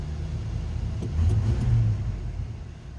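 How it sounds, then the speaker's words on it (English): A stock 1979 Ford Thunderbird 302 V8 engine idles with a steady low rumble, swelling briefly as if revved a little in the middle, close and continuous with no talking. "it sounds and runs like you'd expect a stock 79 302 Ford T-Bird to sound and run"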